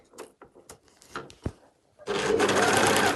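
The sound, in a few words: overlocker sewing a cushion cover's edge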